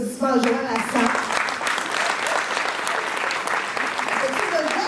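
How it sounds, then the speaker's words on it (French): A university hall audience applauds Joël Lassalle at a professional development event, loud sustained clapping from many people with voices and a few cheers rising at the start and talk mixed in throughout. "On peut-tu commencer à donner une grande main d'applaudissement à Joël Lassalle?"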